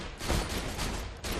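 Rapid gunfire from a weapon in the video game Borderlands 2, a dense, continuous burst of fast shots that fills the whole short stretch at steady loudness, with no talking.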